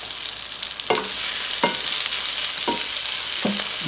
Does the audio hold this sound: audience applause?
no